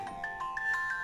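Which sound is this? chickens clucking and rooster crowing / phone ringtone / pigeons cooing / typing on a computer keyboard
phone ringtone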